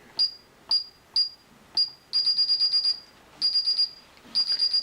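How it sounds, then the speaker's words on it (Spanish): A Paradox alarm system with a PGM output sounds a piercing electronic beep, first as single spaced tones, then as rapid bursts of repeated pulses, loud and alone. "Vamos a conectar la alarma."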